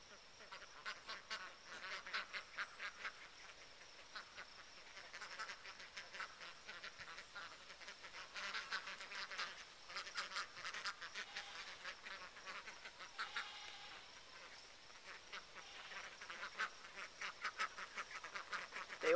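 Ducks being fed cheese quack in a busy, overlapping chorus that keeps up for the whole stretch, with a person calling to them and imitating their quacks over it.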